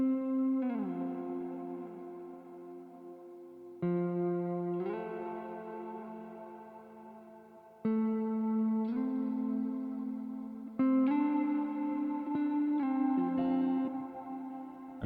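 Sustained guitar notes sliding between pitches in a sleepy lo-fi beat, drenched in heavy reverb, with new slides entering every few seconds and ringing out in long washes.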